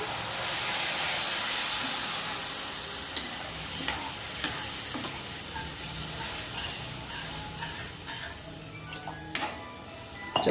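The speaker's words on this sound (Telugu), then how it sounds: "ఇప్పుడు కొంచెం వాటర్ అయితే వేసుకోవాలి" Water poured onto vermicelli roasting for semiya payasam sets off a loud, steady hiss and sizzle, with sharp utensil ticks and clinks scattered throughout and no voices.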